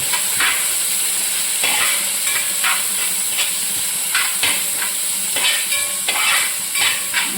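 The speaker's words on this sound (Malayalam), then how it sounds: "ഇത് നന്നായിട്ടങ്ങ് വഴറ്റണം" Ingredients being sautéed in a pan for Karaikudi chicken curry give a loud, constant sizzling hiss up close, with scattered scrapes and clinks of a spoon stirring through it.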